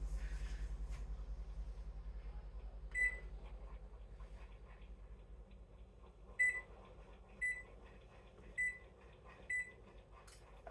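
An oven's control panel gives a series of short, thin electronic beeps, one early and then four spaced presses near the end, heard from a short distance in a quiet kitchen.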